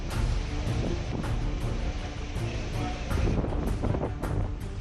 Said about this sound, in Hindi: ओडिशा के भद्रक में भी तूफान से पहले तेज हवाओं के साथ झमाझम बारिश हो रही है।